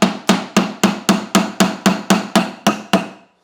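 A regular hammer taps wooden dowels into a woodworking joint: ten or eleven sharp, evenly spaced knocks in quick succession, each ringing briefly before the next, close and loud with no voices.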